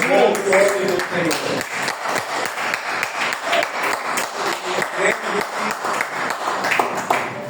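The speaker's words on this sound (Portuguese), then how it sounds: "A igreja pode assentar-se aplaudindo a palavra do Senhor" Church congregation clapping, a loud, fairly rhythmic burst of many hands applauding in unison that continues steadily, with some voices mixed in at the start.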